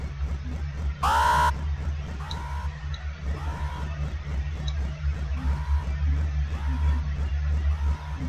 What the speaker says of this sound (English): Thank God that alarm is gonna be done now.